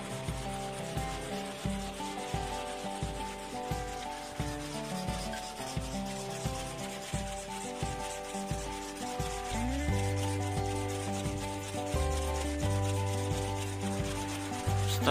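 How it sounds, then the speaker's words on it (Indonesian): Machine polishing bamboo skewers for satay and cilok, giving a steady rubbing, sanding churn of wood tumbling against wood, continuous and even with a faint hum under it. "Setelah melewati proses poles yang kurang lebih selama 3 jam, kita lanjut ke proses peruncingan."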